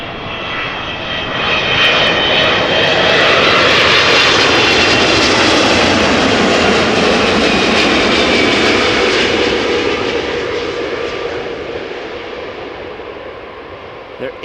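A 25-year-old Boeing 777-200ER passes at Amsterdam Schiphol Airport, its jet engines building into a loud, broad roar with a faint whine that peaks midway and slowly fades as the aircraft moves away.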